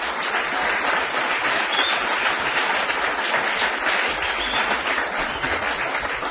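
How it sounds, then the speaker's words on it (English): Steady applause fills a city council meeting chamber, a dense continuous patter of many hands clapping at even loudness throughout, with no talking over it. "we don't want to have too much applause"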